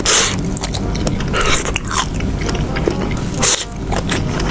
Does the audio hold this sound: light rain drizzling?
no